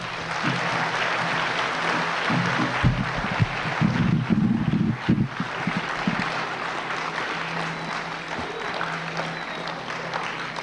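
A school audience at Timberlane Middle School applauds during Governor Benson's 2003 visit, producing a dense, steady wash of clapping that carries on for about ten seconds with no voices over it.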